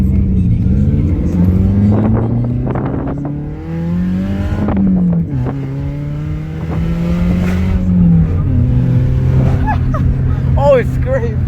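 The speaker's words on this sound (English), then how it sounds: "That was probably the exhaust." Straight-piped Toyota Camry exhaust revving loudly and close, rising and falling pitch sweeps repeated over the span, with people talking over it.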